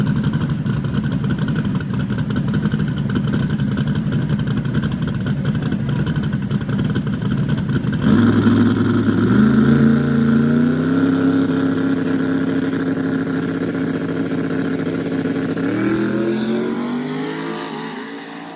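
Moonshine, a race car, accelerates hard down the track with a loud, raspy engine roar that shifts into rising tones with gear changes before fading slightly at the end.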